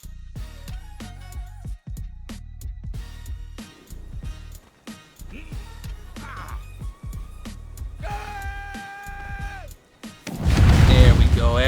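Explosives detonating in the survival game Conan Exiles, a heavy roaring blast that swells near the end after scattered thuds and game noise, mixed with a talking voice.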